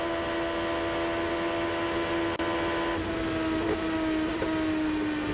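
An IndyCar race car engine in the 2008 Indy Japan 300 holds a steady, high, droning whine on track, loud and continuous, easing slightly lower in pitch toward the end.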